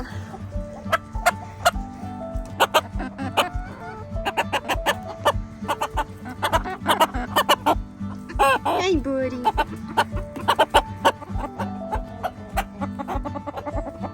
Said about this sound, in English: Look at this little broody hen